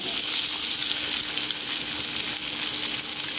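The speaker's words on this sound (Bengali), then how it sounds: "আলু করলাটা একটু ভেজে নিয়েছি" Potato and bitter gourd fry in hot oil, giving a steady, close sizzle with faint stirring throughout and no talking.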